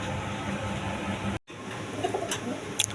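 A pair of high-flying Giribaz pigeons with green eyes coo softly amid steady background hiss, broken by a brief dropout midway and a few faint clicks near the end.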